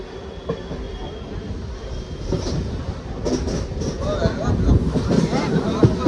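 A train rumbles past nearby near Udhna, Surat, with a rising, rattling roar and metallic clatter, growing louder toward the end.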